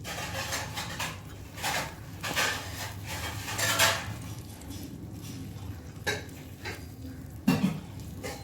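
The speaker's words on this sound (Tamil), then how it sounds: "நல்லா கலக்கிக்கலாம்." Tomato chutney is stirred in a miniature cooking pot, giving a run of scraping and clinking strokes from a small utensil against the pot, close and moderately loud with no talk.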